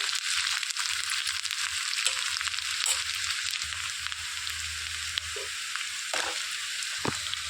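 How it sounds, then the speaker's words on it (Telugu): Drumstick pieces fry in oil with browned onions for an Andhra-style spicy cucumber and drumstick curry, making a steady, close, loud crackling sizzle with occasional stirring scrapes and small clinks. "నూనెలో మంచిగా ములక్కాడ కూడా ఫ్రై చేద్దండి"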